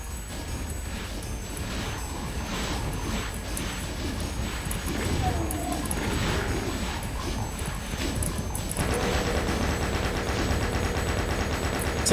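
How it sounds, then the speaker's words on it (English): Rapid automatic chain gun fire in a Doom mod map, a dense continuous burst of shots at close range over busy game noise, with the clatter growing harsher and denser toward the end. "Chain gun."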